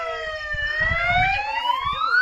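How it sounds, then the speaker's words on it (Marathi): Security warning sirens mounted around a village after a leopard came near the houses, wailing loudly and steadily with rising, overlapping tones and a low rumble beneath. "हे असे सायरन आम्ही सगळीकडे बसवलेले आहेत हे वाजायला सुरू झालेत"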